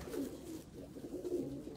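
Kleine Jade, a small racing pigeon and Barcelona race winner, gives soft, low, throaty coos in two short bursts, close by and faint.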